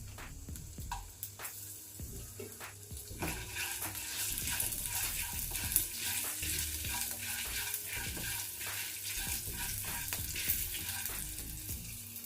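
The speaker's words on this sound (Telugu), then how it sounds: "ఒక గుప్పెడు కరివేపాకు, మీడియం ఫ్లేమ్లో పెట్టి వేయించుకోవాలి" Curry leaves, garlic and dried red chillies sizzle in a pan of oil over a medium flame for a spicy garlic corn dish, a loud steady crackle broken by repeated stirring scrapes, with no talking.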